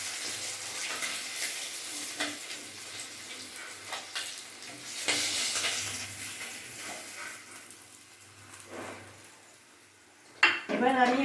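Fried rohu fish pieces lifted one by one from a pan of hot oil, with soft sizzling, scraping and light clinks of a utensil against the pan, ending in a louder metallic clatter.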